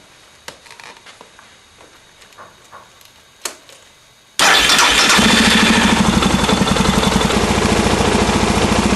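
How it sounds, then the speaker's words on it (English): Suzuki DR650 motorcycle engine cranks and fires after a few seconds of quiet clicks, then settles into a loud, steady, close idle with an even thumping pulse that continues to the end. "So I'll start the bike up."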